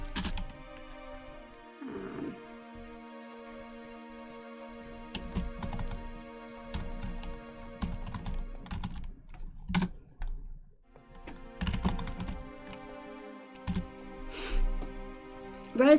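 Rapid, clattery typing on a noisy computer keyboard, with uneven bursts of keystrokes and short pauses, close to the microphone.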